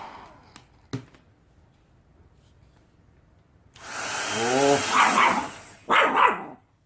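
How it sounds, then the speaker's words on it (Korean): A pet dog barks several times in quick succession, fairly close, as a Dyson-style hair dryer runs in a home, preceded by a couple of sharp knocks. "안도가 짖는 거 봐"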